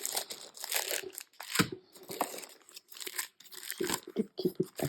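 Small pieces of paper rustle and crinkle close by, handled in quick uneven bursts with short pauses between them.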